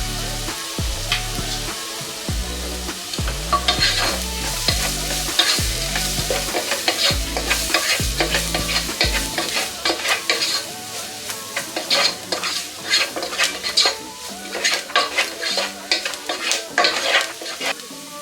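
A spoon scrapes and stirs turmeric and chili powder in a frying pan for bitter gourd dry fry, rhythmic strokes over a steady sizzle, with a low hum early that drops out midway.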